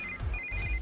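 A phone ringtone chirps steadily, a thin electronic tone repeating briefly and fairly quiet.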